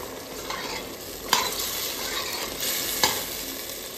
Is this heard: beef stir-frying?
yes